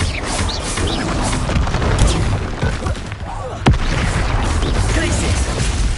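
A Confringo fire spell exploding in the game Hogwarts Legacy: rumbling booms and crashes with a sharp crack partway through, loud and dense, with talking mixed in.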